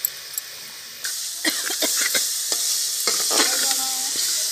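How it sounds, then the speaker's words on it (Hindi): Tomatoes frying and sizzling in masala for a Nayagarh-style mutton curry, with steady hissing and sharp bursts of stirring against the pan, close and fairly loud, no talking. "इसमें फिर टमाटर डालेंगे।"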